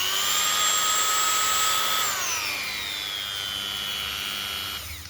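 Dremel rotary tool with a brushed universal motor running at high speed, a steady close whine whose pitch drops partway through before it winds down at the end, with no speech.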